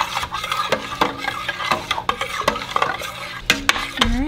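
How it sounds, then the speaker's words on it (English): Thick homemade yogurt is stirred with a spoon, producing repeated wet, sticky scrapes and clicks against the container in an irregular rhythm, close and fairly loud with no talking. "So I'm gonna go ahead and I'm gonna stir it."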